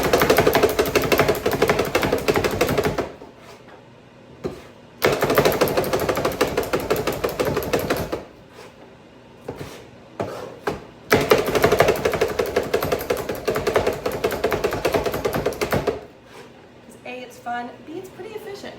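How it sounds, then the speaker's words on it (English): A food chopper chopping onion rattles in rapid bursts, three long runs of fast chopping separated by quieter pauses with brief taps between. "So I'm going to use a food chopper."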